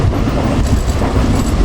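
A passenger express train between Karachi and Lahore runs fast on the rails, heard from inside as a loud, continuous rumble with rapid clattering wheel beats and no talk.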